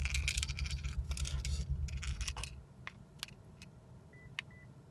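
A 2018 Toyota Corolla sounds short electronic beeps during remote key programming, following handling clicks and rustling; the sharp tones are sparse and fairly quiet in a still car.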